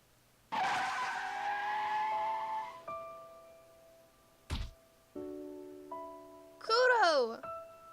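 In a visual-novel video game, a car's tires screech in a long skid, a dull thud follows, then tonal game sounds and a shrill squeal of brakes close by.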